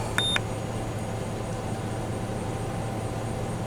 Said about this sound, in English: you hear this thing going beep beep beep beep as you're pushing the buttons